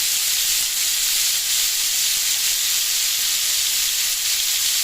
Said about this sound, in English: I'm stirring the steak now, and I'm gonna turn it over